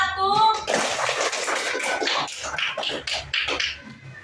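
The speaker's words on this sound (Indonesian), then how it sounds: "Sekali lagi tepuk tangan dulu buat kelompok 1" Classroom of students clapping for group 1, a dense patter of many hands close by, with children's voices mixed in under the clapping.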